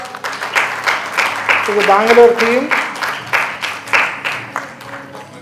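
Audience applause at a Mother's Day celebration for a mothers' milk bank, greeting the chief guest; rhythmic clapping runs throughout while a voice speaks and a brief tonal sound rises in the middle.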